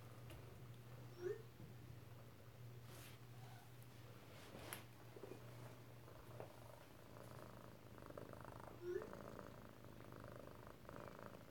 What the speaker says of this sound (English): that's Hank purring on his mom.